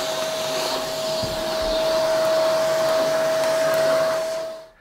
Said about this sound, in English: I'm gonna vacuum and blow this out and then clean this hole up a little bit.